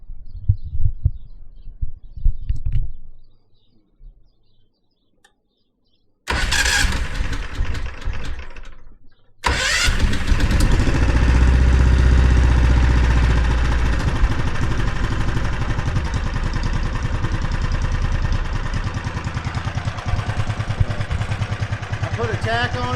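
Predator 459cc engine with its governor bypassed, cranked over and then running steadily at a loud, close rumbling idle, after earlier quiet handling noises and a short silence.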